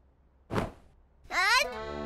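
A cartoon girl, Sarah, gives a single sharp sneeze, a short burst followed a moment later by a higher, tonal voiced sound. Both are close and clear against a quiet background.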